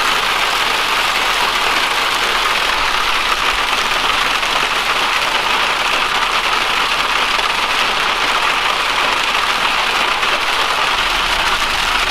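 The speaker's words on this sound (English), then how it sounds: "Look at the hail." Hail coming down in a dense, continuous hiss of pelting ice with a low engine idling underneath, steady and fairly loud throughout, no talk.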